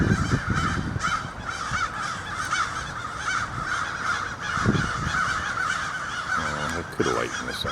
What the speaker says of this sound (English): cawing of the crows is a warning to the other crows that they need to beware of the hawk hovering around.